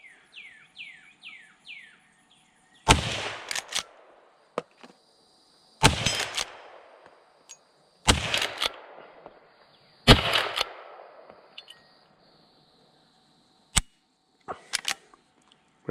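An 1892 Winchester lever-action rifle fires 32-20 WCF rounds outdoors, four loud sharp shots spaced a few seconds apart, each with a short echoing tail and lever clicks between, while birds chirp faintly at the start.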